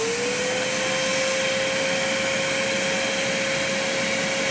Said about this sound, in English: I'm gonna turn on the vacuum now,